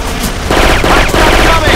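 Rapid gunfire from a custom map match of the video game Left 4 Dead 2, a dense burst of shots that grows louder after the first half-second and keeps rattling steadily to the end.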